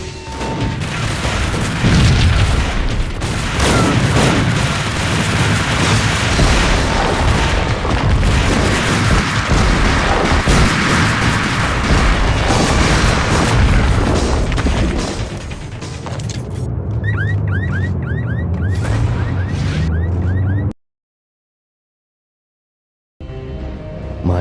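Dense, continuous gunfire and booming explosions from the Max Payne Mobile video game, loud and sustained for about twenty seconds before cutting to near silence, then a brief return.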